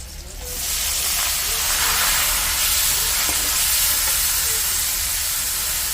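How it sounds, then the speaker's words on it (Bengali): Chopped onion and potato frying in hot oil in a pan, a steady loud hiss and sizzle that holds evenly throughout with no talking. "আলুটা লাল লাল করে ভাজা হয়ে গেছে"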